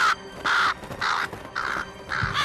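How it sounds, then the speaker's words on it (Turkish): Crows cawing in four loud, evenly spaced harsh calls, close by, with no talk over them. "şu kuşları fark ettiniz mi?"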